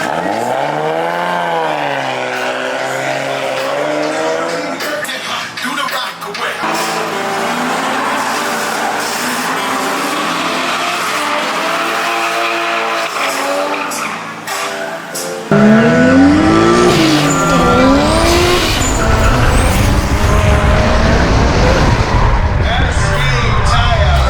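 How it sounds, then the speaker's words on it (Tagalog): A 1JZ-swapped GT86 spins its tires, rising engine revs and tire squeal on and off through the clip, growing sharply louder and harsher in the last third, with voices over the noise. "Kaya siya nag-spin out ulit siyang gulong."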